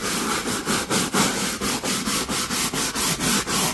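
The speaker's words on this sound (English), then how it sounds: "kind of just wiping it really fast" Fast rhythmic rubbing of a towel across the floor inside a van during a deep interior clean, about a dozen quick close strokes, loud and steady with no talking.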